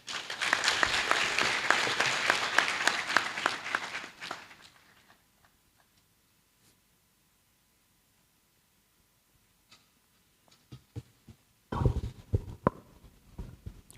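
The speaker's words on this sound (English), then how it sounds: "Another round of applause for Prof. 1." An audience at a university congregation ceremony claps steadily for several seconds, then the applause fades into near silence, broken by a few scattered claps and shuffling sounds.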